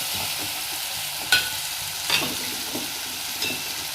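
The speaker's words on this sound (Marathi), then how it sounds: "वटाणे, कोथिंबीर याला पहिले तेलामध्ये होऊ द्यायचं" Peas, onion and coriander frying in oil in a pan for a potato-pea bhaji, a steady soft sizzle with a couple of faint utensil scrapes and taps, no voices.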